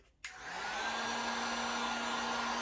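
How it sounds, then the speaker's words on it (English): A heat gun switches on with a click and blows a steady, loud airy roar with a constant whine, drying paint on a stenciled fall decoration. "I am going to hit this with a heat gun."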